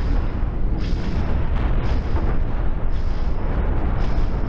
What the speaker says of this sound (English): Oh, that thing got pummeled by my missiles anyway.